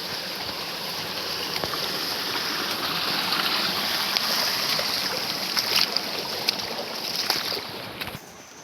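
A stream runs toward Ghonsari waterfall in Kankavli, Sindhudurg, its steady rushing flow close and continuous, broken by faint clicks and small splashes throughout.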